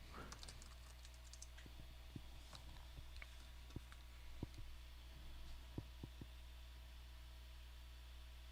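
Quiet, scattered keystrokes on a computer keyboard, a few soft clicks spaced irregularly over a constant low electrical hum, somewhat distant and faint.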